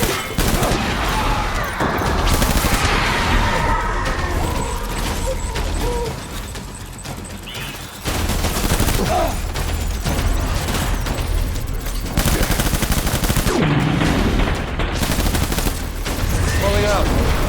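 Sustained gunfire from a firefight in Death Stranding, with bursts of shots and booming impacts rattling on for most of the stretch, dipping briefly before resuming at full intensity, mixed with faint game voices.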